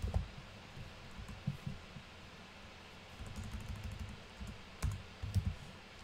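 Scattered clicks of keys being pressed on a keyboard, in irregular bursts, with a low engine-like rumble in the background.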